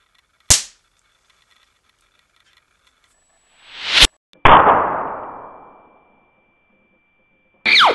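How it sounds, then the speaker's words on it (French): Small electrically ignited pyrotechnic charge going off: a sharp crack, then a second louder burst with a hissing, fizzing tail lasting about a second and a half, and a final short burst near the end, with quiet between. "Regardez la petite explosion miniaturisée qu'on a fait ici."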